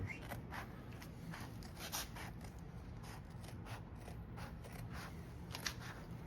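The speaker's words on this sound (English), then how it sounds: "I bought these at Walmart for about 15 bucks, and I'm here to tell you, they are really good scissors." Scissors snip through interior material for a 1976 GMC truck in a quick, regular series of short, crisp cuts, faint and close against a low steady background.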